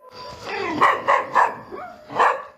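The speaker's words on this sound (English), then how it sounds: "Listen to the dogs." Several dogs bark in short, loud bursts, four or five sharp woofs with gaps between them, fairly close and with no talking over them, in eerie footage from a place people call haunted.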